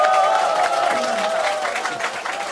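Audience at a neighborhood citizens' meeting with a city mayor applauds a local community center head, a steady wash of clapping from a crowd in a hall, with talking and voices mixed in over the clapping.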